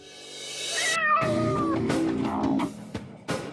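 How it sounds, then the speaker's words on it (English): A domestic house cat meows in a drawn-out, wavering cry that bends upward and then falls, followed by softer bursts and a short final call, fairly close and heard alone. "found one right at his feet: the household cat."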